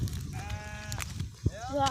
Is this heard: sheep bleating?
yes